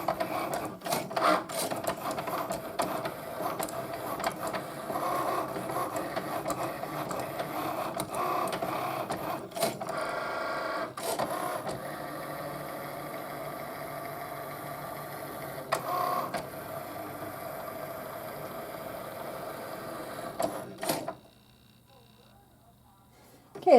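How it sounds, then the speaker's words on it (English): A Cricut cutting machine slices shapes out of material, giving a steady whirring, mechanical drone with small shifts in pitch for about twenty seconds before it stops and falls quiet. "Now it's going to go ahead and cut the shapes out."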